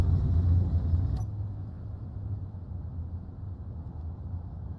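A storm on Mars in the video game Escape from Mars makes a low, steady roar and rumble of wind. A brief higher hiss fades out early, leaving a dull, constant drone.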